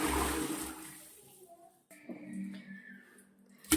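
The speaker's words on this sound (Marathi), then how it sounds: "आता आपलं नॉर्मल जे पाणी असतं ते ओतायचं आहे" Plain water poured by the potful into a bucket of leftover paneer whey: it gushes and splashes loudly at first, then fades, followed by quieter trickling and a few clinks near the end.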